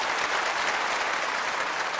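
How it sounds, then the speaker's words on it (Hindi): Sustained applause fills a hall where women have gathered for an International Women's Day event in Gujarat, dense and steady at full strength for the whole stretch, with no talk on top. "तो एक ताली तो बजाओ कि हाँ वी कैन"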